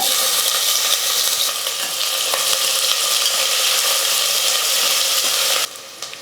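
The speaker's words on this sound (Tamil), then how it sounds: "எண்ணெய் நல்லா காஞ்சிடுச்சு ஒரு துண்டு பட்டை ஒரு அன்னாச்சிப்பூ மூணு லவங்கம் ஒரு பிரியாணி இலை சேர்த்துக்கிறேன்" Whole spices (a piece of cinnamon, a star anise, three cloves and a bay leaf) frying in well-heated oil for a rice dish. A loud, steady, close sizzle runs throughout, then drops off sharply near the end.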